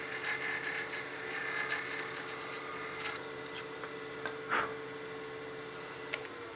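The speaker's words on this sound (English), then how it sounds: "Then I'll be using my nano parting tool" A nano parting tool cuts through a honeycomb blank spinning on a wood lathe, giving a steady, fairly close scraping whir that eases off partway through, followed by a few brief knocks and rubs.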